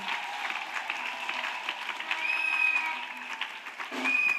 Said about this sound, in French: Non, acclamez vraiment parce que c'est la victoire. Clap truly.